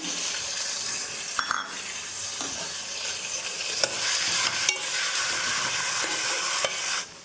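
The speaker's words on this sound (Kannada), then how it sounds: "ಇವಾಗ ಇದ್ಕಿದ ಬೇಳೆ ಹಾಕ್ತಾಯಿದ್ದೀನಿ. ಬೇಯಿಸಿಟ್ಕೊಂಡಿದ್ನಲ್ಲ, ಸ್ವಲ್ಪ ಎಣ್ಣೆಲಿ ಫ್ರೈ ಆಗಲಿ." Cooked dal stirs into onions frying in oil for Mandya-style kaima saaru, a steady close sizzle with scraping spoon strokes and occasional knocks against the pan throughout.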